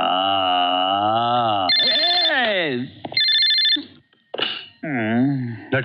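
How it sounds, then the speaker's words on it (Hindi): A telephone rings with a loud, melodic ringtone, its warbling tones repeating in bursts with short gaps between them. "जब ये फोन बजता है"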